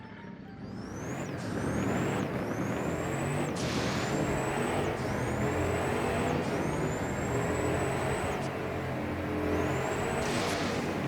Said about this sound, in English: the best sounding car from this, I would say, is the Noble M600 Speedster.